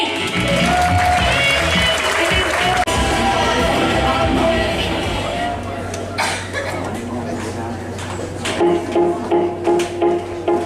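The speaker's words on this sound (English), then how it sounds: "give a big round of applause to the amazing Tommy Drake" A comedy club crowd applauds and cheers for comedian Tommy Drake, with dense clapping that gradually thins, loud and close, and a voice speaking over the tail end.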